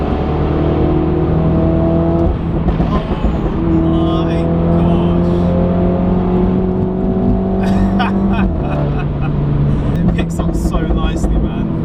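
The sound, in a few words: F56 Mini Cooper JCW engine revving, loud exhaust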